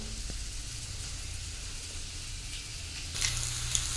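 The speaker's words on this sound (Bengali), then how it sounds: "একটা কষি তুলেছি, তুলে আলু দিয়েছি, দিয়ে ভাজবো।" Potatoes frying in a pan in a home kitchen, a faint, even hiss of oil that carries on steadily and grows a little louder near the end, with no speech.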